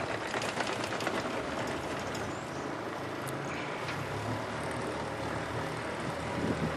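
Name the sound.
pontoon boat outboard motor idling after starting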